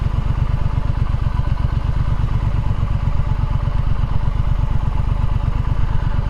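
A Triumph Street Scrambler Sandstorm motorcycle is ridden along a coastal route, its engine giving a steady, loud, pulsing low rumble mixed with wind noise throughout.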